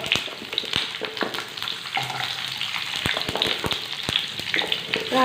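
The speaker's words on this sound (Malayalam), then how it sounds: "നന്നായിട്ടൊന്ന് ചൂടായി വരുന്ന സമയത്ത് നമുക്കിതിലേക്ക് ചെറിയ ഉള്ളി ചേർത്ത് കൊടുക്കണം" Whole small shallots sizzle steadily in hot oil over a lowered flame, a close, even crackle with occasional stirring clicks and no talking.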